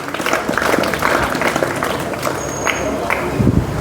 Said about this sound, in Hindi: मैं चाहूँगा एक बार आप सभी जोरदार तालियों के साथ में इन तमाम बच्चों का